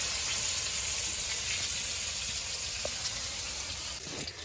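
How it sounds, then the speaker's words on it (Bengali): Chillies frying in a pan give off a continuous, dense sizzle and crackle, close and steady throughout, easing slightly near the end. "তো বেগুন ভাজা শেষ, কমপ্লিট হয়ে গেছে, আর এখন হলো মরিচ ভাজা।"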